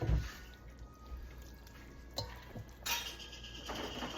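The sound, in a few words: adding noodles into goulash sauce in a pot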